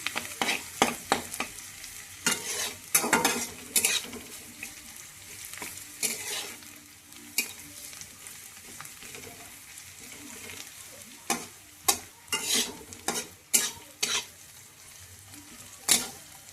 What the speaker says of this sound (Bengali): পেঁয়াজটা হচ্ছে একটু বাদামি বাদামি ভাজবো